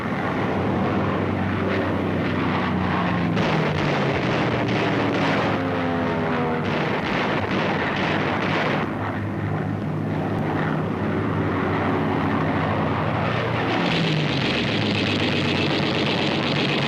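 American P-40 fighter planes in combat over the Pacific against Japanese aircraft, a loud, continuous roar of aircraft engines with rising and falling passes and rumbling gunfire-like bursts.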